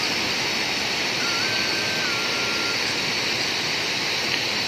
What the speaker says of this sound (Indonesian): Suara gemericik sungai.